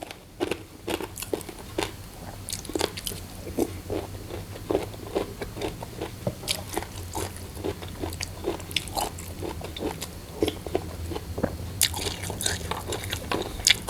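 Close, steady chewing and crunching of khanom jeen rice noodles in a spicy sataw curry sauce with fresh vegetables, with repeated bites and wet crackles running throughout and no talk.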